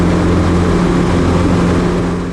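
Piper PA-18 Super Cub light aircraft engine running in flight, a loud, steady propeller drone with a deep hum that holds evenly throughout.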